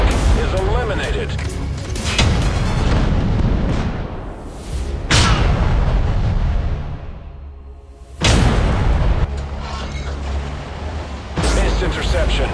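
Tank cannon fire and explosions in the tank combat video game Modern Tanks, several loud booming blasts at intervals with rumbling battle noise between and a voice talking over it.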